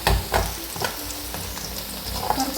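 Chopped shallots and onion sizzle and fry in oil while being stirred, giving a close, steady crackle with a few louder scraping stirs.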